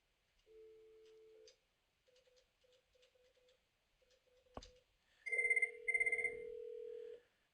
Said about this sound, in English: And if we call into his phone, we see it ringing.